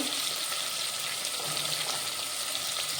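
Capsicum hits hot oil in a pan for hotel-style veg biryani, giving a steady, loud, even sizzle throughout with faint stirring and no voices.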